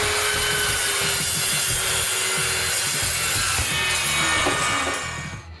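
A DeWalt metal cutting chop saw with a brand new blade grinds through metal, a continuous harsh, rasping whine held steady for about five seconds before tapering off, with no talking.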